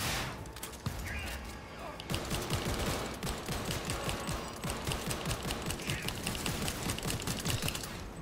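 Cyberpunk 2077 gunfire rattles in dense, rapid automatic bursts that run almost without a break. Mechanical clatter sits over a steady, loud game mix.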